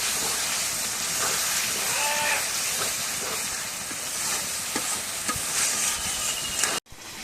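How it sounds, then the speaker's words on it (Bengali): Spice paste of ginger, garam masala and cumin being stir-fried in a pan for a goat meat curry, a steady broad hiss with soft scraping stir strokes throughout, ending in a brief cut. "দিয়ে মশলাটা ভালো করে কষানি করে নেই"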